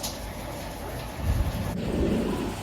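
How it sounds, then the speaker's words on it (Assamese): Steady heavy rain roars close by, with a deeper rumble swelling midway through. "চাওকচোন কিমান বেয়াকৈ বৰষুণ দিছে"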